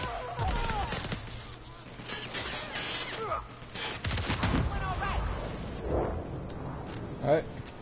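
Gunfire in the video game The Outer Worlds comes as repeated loud, sharp bursts and heavy booming shots spread through the clip, with a voice talking over the combat.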